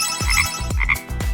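Cartoonish frog croaks repeat in a steady rhythm, each a low throaty burst with a ringing upper tone, about four close, loud calls heard alone.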